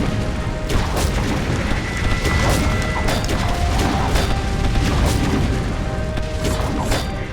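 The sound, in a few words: explosion in video game Defenders of Ardania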